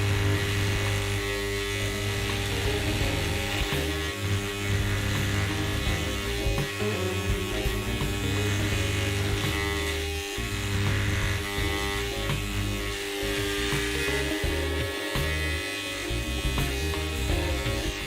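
Pneumatic air scribe with a swapped-in tip grinding matrix off an ammonite fossil during prep, a loud steady high-pitched buzz that runs continuously and close throughout, with no talking.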